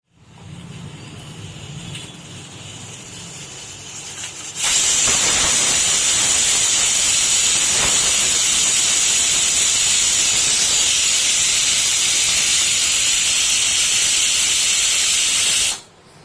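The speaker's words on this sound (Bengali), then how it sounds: "এটাকে আমরা গ্যাসে বসিয়ে জাস্ট একটা সিটি দিয়ে নেবো" Steam shrieks from a pressure cooker on a gas stove cooking ash gourd with hilsa fish head, a loud, continuous hiss that starts abruptly after a quieter stretch and holds for about eleven seconds before cutting off.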